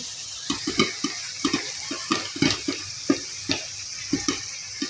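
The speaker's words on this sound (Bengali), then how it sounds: "আর এদিকে মাছের পেঁয়াজগুলো কষাচ্ছি" Onions for a fish curry frying in mustard oil are stirred with a utensil, giving a quick rhythmic series of scrapes and clacks against the pan over a soft sizzle.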